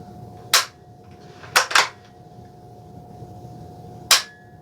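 A bolt-action rifle's bladed trigger is dry-fired, giving sharp, close metallic clicks: one, then a quick double, then another after a pause, over quiet room tone.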